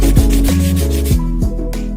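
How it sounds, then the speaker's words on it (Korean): A surface is sanded by hand with 600-grit sandpaper in rhythmic back-and-forth strokes, about six close scratchy swipes in two seconds, loud and alone. "그 다음으로는 600방 사포로 갈아줍니다."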